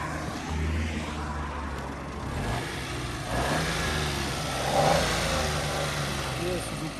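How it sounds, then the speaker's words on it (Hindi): A Suzuki Alto VXR with a 660cc engine revs in short pulses over a steady idle, fairly close and moderately loud, with someone talking over it and a steady outdoor hiss throughout. "थोड़ी सी आपको रेस दे, मैं इंजन की वॉइस सुनाता हूँ ना।"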